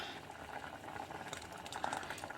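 A pot of Kerala-style raw papaya curry with tamarind bubbles on the stove, a soft, close, continuous simmer with small pops throughout.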